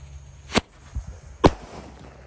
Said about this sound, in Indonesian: Selanjutnya kita nyalakan mercon emas ini.